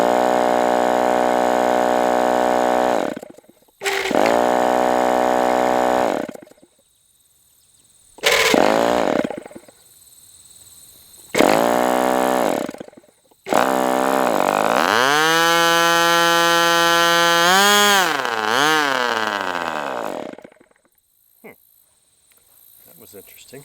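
A Northfield Ross Black Demon 61 chainsaw is pulled over and briefly fires again and again, each loud buzzing burst cutting out, then a longer run that revs up and down before dying.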